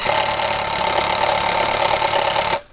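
A power drill with a screw extractor bit whines steadily and loudly at close range for a couple of seconds while failing to bite into a stuck screw, then cuts off abruptly.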